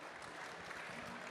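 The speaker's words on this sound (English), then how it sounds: "Please, a round of applause" Continuous, dense applause from a conference audience welcoming speakers from Virgin Media and HSBC, steady and even over its short span with no voices on top.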